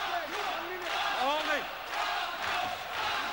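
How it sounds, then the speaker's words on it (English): A crowd at a kickboxing match between Tosca Petridis and Steve Jez roars and shouts in swelling waves around the ring, with yelled calls rising above the steady noise. "the crowd rallying behind Steve Jez now"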